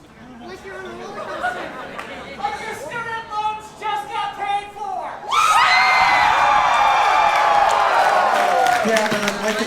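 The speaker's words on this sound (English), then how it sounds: "I need you to cheer like Elon Musk just got banned from Twitter." Crowd at a fursuit dance competition, first murmuring through a host's amplified voice, then bursting into loud sustained cheering, whooping and screaming that holds to the end.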